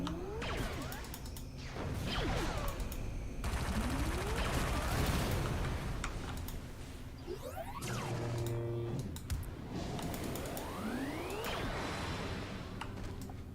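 Enemy turrets in City of Heroes fire repeated bursts of mechanical shots and whooshing projectiles, loud and close, with rising tonal sweeps between volleys and no talking over them.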